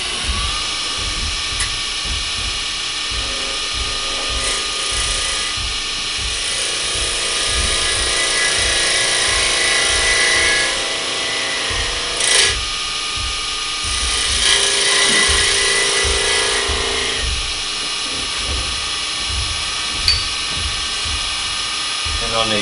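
A wooden lid spins on a wood lathe as a skew chisel makes light burnishing cuts, giving a steady high whine and hum with brief scraping changes while someone talks over it.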